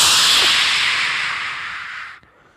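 A single loud crash-cymbal imitation made by mouth, a bright sustained hiss that fades steadily over about two seconds before cutting off, heard alone.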